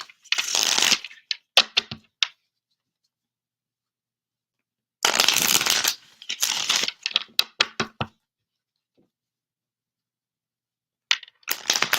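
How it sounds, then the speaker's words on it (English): Tarot cards being shuffled in two long riffling bursts with a few shorter snaps between them, then quiet, and a brief shuffle again at the end. "I wanted to shuffle these up."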